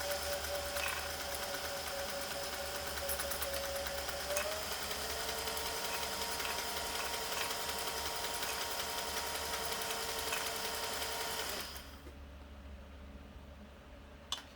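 A Singer 500a sewing machine runs steadily at a wide zigzag stitch, its needle mechanism humming and whirring continuously before cutting off near the end, leaving a quieter motor hum.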